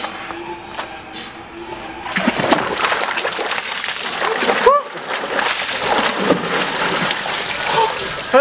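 A bucket of ice water is dumped over a person outdoors, a loud sudden splash and heavy splatter of water, with a short vocal reaction.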